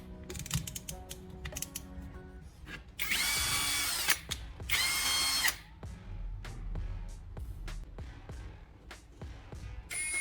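A drill spinning a homemade paddle to stir used oil and wood glue in cups: two loud whirring bursts of about a second each, close up, among clattering and handling noises.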